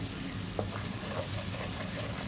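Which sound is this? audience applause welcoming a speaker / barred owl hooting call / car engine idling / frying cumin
frying cumin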